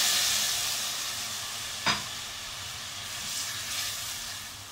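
Garlic and blended tomato hit a hot pan with butter and give a steady, bright sizzle. There is a brief sharp hiss burst near the start and no talk.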